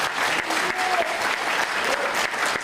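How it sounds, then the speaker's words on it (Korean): Audience applause fills a large lecture hall during a national security talk, a dense, steady wash of many hands clapping at once, loud and sustained throughout. "이 모두가 충분히 여러분들 박수하십시오."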